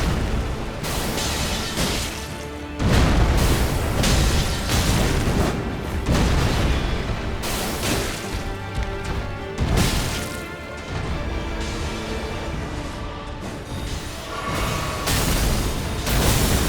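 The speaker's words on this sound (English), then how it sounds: "a powerful single attack that launches an iron stake with a great explosion" In the Elden Ring Nightreign video game, an iron stake launches with a great explosion, a series of loud, booming blasts and crashes that repeat in heavy bursts across the whole stretch.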